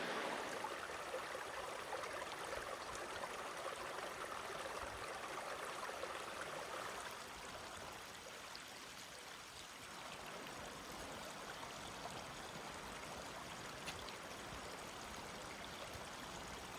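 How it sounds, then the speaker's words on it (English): The East Fork of the Little Colorado River runs as a steady stream in rainy weather, a soft continuous wash of flowing water heard from a short distance, dipping slightly midway and carrying on without voices. "Now I believe this is the East Fork of the Little Colorado River."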